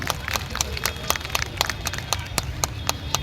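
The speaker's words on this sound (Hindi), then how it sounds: "नेम हिमांशी, तालियां हिमांशी के लिए भी।" Steady applause rises from an outdoor crowd at a children's fashion show ramp walk at India Gate in Delhi, rhythmic clapping mixed with crowd murmur under an announcer's voice.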